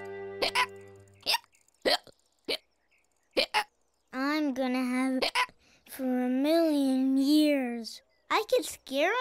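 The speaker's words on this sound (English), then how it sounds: "Oh, those hiccups starting to get you down." A cartoon character from the animated series Rolie Polie Olie hiccups repeatedly in sharp, evenly spaced bursts, alternating with stretches of clear, close childlike voices speaking.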